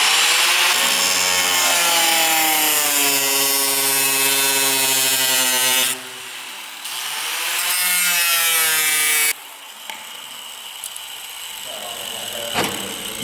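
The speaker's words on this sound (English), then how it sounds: "that's a huge grinder and I really didn't want to overcut it" A large angle grinder cuts a hole through the hood of a Mazdaspeed 6, loud and close with a rising and falling whine, briefly easing off at the midpoint, then resuming more roughly.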